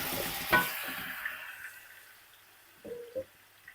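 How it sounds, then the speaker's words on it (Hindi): Two kilograms of mutton tipped into hot oil in a karahi for Shinwari-style mutton karahi, a loud burst of sizzling that fades to a softer fry, followed by a couple of metallic stirring clunks. "ऑयल गर्म हो गया, अब इसमें 2 kg मटन डाल दें।"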